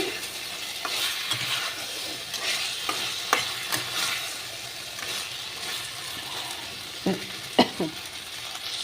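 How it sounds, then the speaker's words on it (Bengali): Spices and potatoes fry in a pan for a fish curry, a steady sizzle broken by repeated scraping stirs and occasional louder clacks of the spatula against the pan, close and clear. "আমার আলু দিয়ে মশলাটা কষানো হয়ে গেছে"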